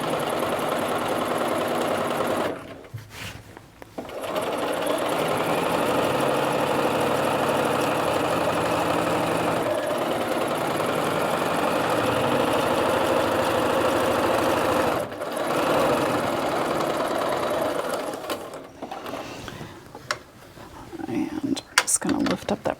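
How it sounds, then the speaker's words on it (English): A sewing machine runs stay stitching along a single layer of fabric, a fast steady whirring hum with short pauses where the presser foot is raised and lowered, close and clear. "put down my presser foot, and stitch some stay stitching"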